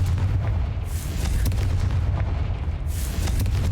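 A Confringo fire spell blasts in Hogwarts Legacy, a sustained booming explosive rumble with heavy low end and a couple of bright bursts, loud and continuous without speech.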